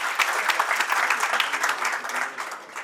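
An audience at an executive meeting of a Punjab tent dealers' association gives a hearty round of applause. Dense, even clapping from many hands fills the room for about three seconds and tapers slightly at the end.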